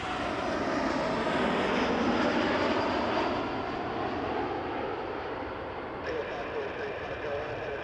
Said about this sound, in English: WestJet coming in over our heads.